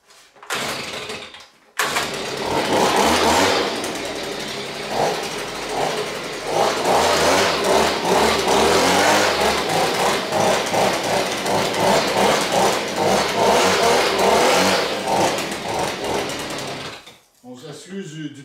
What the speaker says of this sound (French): on peut aussi servir du blower, du souffleur à feuilles